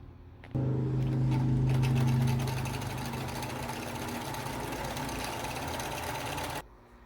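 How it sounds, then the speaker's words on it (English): A sewing machine stitching fabric for a face mask runs steadily and loud for about six seconds, a continuous motor hum with rapid needle chatter, starting abruptly and cutting off at the end. "But then I'm just going to sew it the same way that I did the other side."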